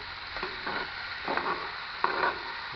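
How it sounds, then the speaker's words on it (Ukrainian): Boneless pork sizzles steadily in a hot cauldron over an open fire for plov, with a few scraping stirs and clinks of a utensil against the metal. "М'ясо смажиться, не забуваємо його перемішувати."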